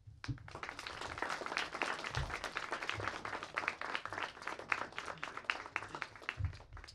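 Audience applause at the close of a guest speaker's talk at T.C. Williams, a steady round of many hands clapping for about seven seconds with brief low thumps mixed in.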